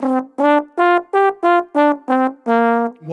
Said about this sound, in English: This is a normal pentatonic.